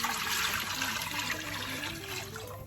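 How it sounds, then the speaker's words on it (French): Strained chicken broth for chicken waterzooi poured back into a pot, a steady splashing, gurgling stream close by that tapers slightly toward the end. "Je reverse le bouillon filtré dans la cocotte"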